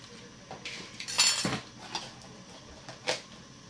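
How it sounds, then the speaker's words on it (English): Metal clinks and clatters as a lid is set onto a cooking pot, a few close, light knocks and a final clank in a quiet kitchen. "we have to cover and allow it to boil"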